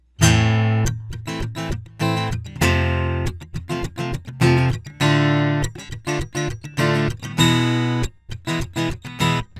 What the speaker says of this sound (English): So the rhythm section just with the guitar sounds like this.